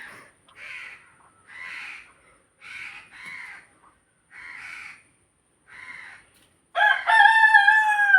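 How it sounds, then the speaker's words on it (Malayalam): A rooster crows loudly and close by near the end, following a series of short, evenly spaced bird calls. "കോഴികളെ കൂക്കലിട്ടില്ലേ കൊക്കോ കൊക്കോ"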